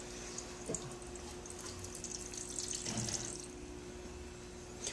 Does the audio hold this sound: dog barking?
no